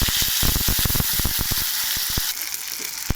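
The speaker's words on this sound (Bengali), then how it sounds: "দিয়ে ভালো করে আমি নেড়ে চেড়ে কষাবো" A paste of ginger, green chili and cumin with sugar sizzles steadily in a hot pan while being stirred, with a rapid series of sharp scraping knocks from the spatula over the constant frying hiss.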